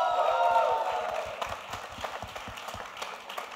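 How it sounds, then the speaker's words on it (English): Audience applause at a film anthem song launch, a dense spread of many hands clapping with scattered cheers, the crowd noise fading slightly after a louder opening swell. "big round of applause, ladies and gentlemen."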